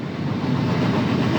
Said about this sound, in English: That's a train, all right.